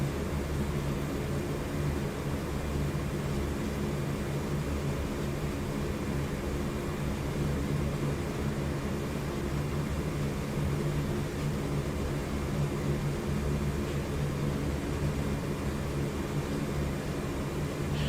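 Four turboprop engines of a C-130J Hercules idle at low power while taxiing in the DCS World flight simulator, a constant dense droning roar with steady low rumble, unbroken and alone throughout.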